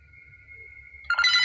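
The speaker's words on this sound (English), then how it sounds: "yet another phone starts to ring" A telephone rings, starting as a faint steady tone and then bursting into a loud trilling electronic bell about a second in, with a low rumble beneath.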